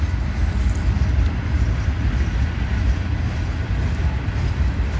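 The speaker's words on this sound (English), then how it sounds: "I hear that locomotive really pulling now" A steady, heavy mechanical rumble and rolling clatter of a freight train moving past nearby, continuous and loud, without voices.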